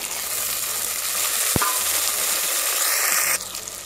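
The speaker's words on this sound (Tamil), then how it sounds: "இப்போ தக்காளி பழத்தை சேர்த்துக்கலாம்" Tomatoes sautéing in a pan for prawn and drumstick kuzhambu, a steady close sizzle with a sharp clink of a utensil partway through and the frying dropping off at the end.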